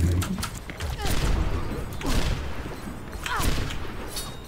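Sharp sniper gunshot bursts from Widowmaker in the video game Overwatch, several cracks and booms over a dense, noisy mix with faint voices beneath.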